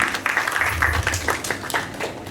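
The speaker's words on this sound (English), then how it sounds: "Big round of applause for our body." Audience applause at a school parent orientation for Classes 6 and 7, a steady patter of many hands clapping at close to moderate distance, with a low murmur underneath throughout.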